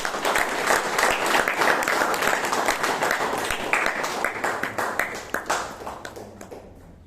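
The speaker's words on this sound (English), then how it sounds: "Please give George a huge round of applause." Club members at a Toastmasters meeting in Bangalore give a round of applause, full and steady at first, then thinning into separate distinct claps that taper off near the end.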